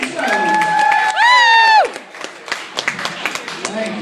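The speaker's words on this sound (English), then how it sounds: "Start clap right now for Mr. Mitch Rose." A comedy club crowd applauds and cheers as a comic is introduced, loud clapping and whoops swelling briefly and then thinning into scattered claps.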